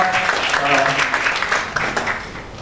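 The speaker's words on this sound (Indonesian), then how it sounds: "Tepuk tangan dulu untuk kita." An audience at a motivational training seminar claps in a steady patter while a voice speaks over the applause, the clapping fading slightly toward the end.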